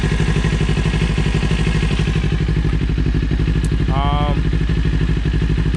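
A 2025 Kawasaki Ninja 500 parallel-twin engine idles just over 1,000 RPM, a loud, close, even low pulsing throb, with a brief higher whine partway through.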